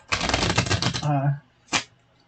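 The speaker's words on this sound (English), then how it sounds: "So let's shuffle" A rapid riffle of shuffling cards, a dense run of crisp flutters, then a brief voice and one more short card burst close by.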